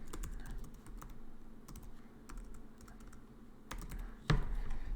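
Close, quiet keystrokes on a computer keyboard come in short irregular bursts with brief pauses between them, ending in a sharper tap.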